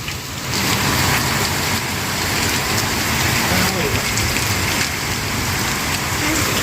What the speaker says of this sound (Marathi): खूप जोराचा पाऊस चालू आहे पावसापेक्षा जास्त वारं आहे खूप हवा सुटली आहे